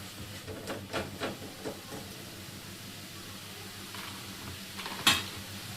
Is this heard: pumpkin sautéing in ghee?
yes